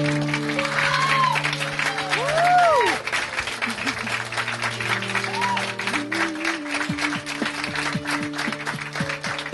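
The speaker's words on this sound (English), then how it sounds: "the crowd bursts wildly into applause" A wedding crowd breaks into sustained applause and cheering after a couple is pronounced married, steady clapping filling the room, while sustained tonal music and a brief voice ride on top.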